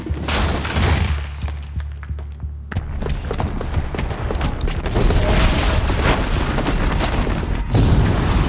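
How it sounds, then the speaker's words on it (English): A bomb blast from a booby trap in the video game Horizon Zero Dawn, heard as a loud, sustained roaring boom with rumbling debris that stays dense and heavy through the whole passage. "the booby trap on the bomb downstairs is gonna get set off"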